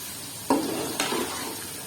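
Biryani masala stirred and fried in a pan for Bombay biryani, with two distinct scraping stir strokes over a steady low sizzle, close and moderately quiet.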